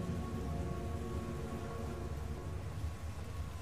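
Heavy rain pours steadily in a dark fantasy setting, a constant dense hiss with a low rumble beneath, moderately quiet and unbroken by voices.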